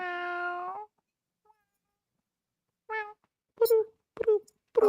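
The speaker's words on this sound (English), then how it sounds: "he's purring." A cat lets out a long drawn meow, then after a pause a series of shorter meows and moans, close and clear against silence; no purr is evident.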